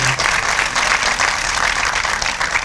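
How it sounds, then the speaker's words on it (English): Audience applause at a black-tie awards gala, a steady wash of clapping from a full room, loud and continuous throughout. "Clap for them."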